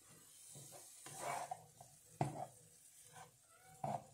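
Bacon bits and onions being stirred in a frying pan, with soft sizzling under repeated scraping strokes and a few sharper utensil knocks against the pan, close and moderately quiet.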